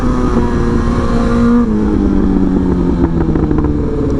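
A 2023 BMW S1000XR motorcycle engine drones loudly and close, its pitch shifting as the rider eases onto the throttle, with a steady rushing noise underneath.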